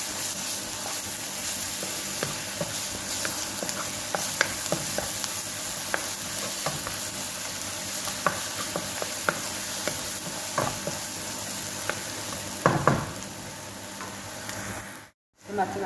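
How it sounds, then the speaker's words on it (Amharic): Garlic added to onions frying in hot oil for a spaghetti meat sauce, a continuous dense sizzle with intermittent stirring scrapes and clicks, close up, ending in a brief cut to silence. "በዚህ መልኩ አሁን ነጭ ሽንኩርት እጨምራለሁ።"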